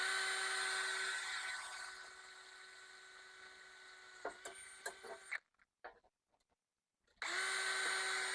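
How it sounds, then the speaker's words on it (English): A power drill whines steadily as it bores into a swimming pool skimmer replacement part, then stops after about five seconds amid a few knocks and handling clicks before the motor spins back up loudly near the end. "so let's just drill that end. I'll drill this side."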